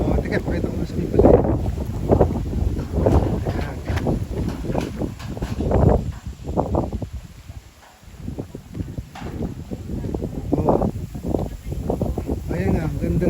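Wind gusts across open rice fields, buffeting the microphone with heavy low rumble under a person talking throughout.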